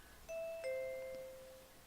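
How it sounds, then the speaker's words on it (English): A two-note ding-dong doorbell chime in the visual novel Fate/Stay Night, clean and fairly quiet, with the second tone ringing out and fading over about a second. "the doorbell rings with perfect timing"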